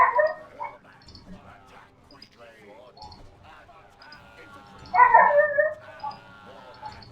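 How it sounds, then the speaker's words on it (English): A dog kept behind an apartment building whimpers, yips and barks intermittently in the background, rising to a louder burst partway through, all under ongoing speech. "my neighbour has decided to park his dog behind the apartment again. So you can probably hear that."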